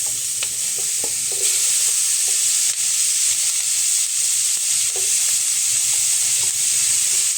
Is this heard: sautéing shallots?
yes